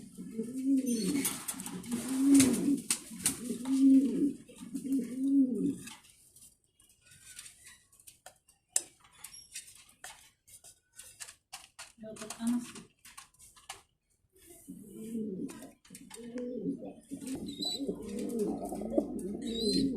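Mundiya pigeons on a farm coo in a steady rhythm of soft, rounded calls, close by, with a quiet stretch in the middle before the cooing resumes and overlaps, faint rustles and clinks around them.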